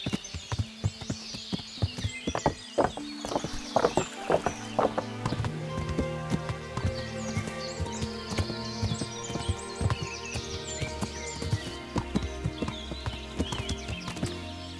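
Horse hooves clip-clop steadily in the medieval video game Kingdom Come: Deliverance, a brisk rhythmic walk of close, clear hoofbeats layered over soft in-game music and ambience.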